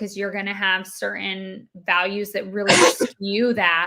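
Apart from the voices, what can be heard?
sneeze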